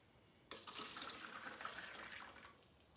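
Tap water gushes from a kitchen faucet into a sink for washing tomatoes, starting abruptly and running as a steady close splashing hiss for about two seconds before easing off.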